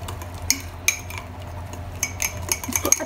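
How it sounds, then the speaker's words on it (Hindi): Chocolate mug cake batter being stirred in a mug, with a utensil clinking sharply against the sides in irregular taps and scrapes, close and moderately quiet, no talking. "चलिए जी अब इसको कर लेते हैं मिक्स अच्छा सा।"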